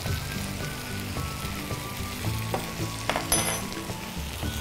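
Tofu and oyster or king mushrooms being stirred in Schezwan sauce in a pan, with a steady close sizzle and soft spatula movements, over a background of tonal music and no talking.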